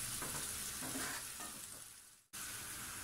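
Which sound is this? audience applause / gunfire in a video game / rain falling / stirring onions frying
stirring onions frying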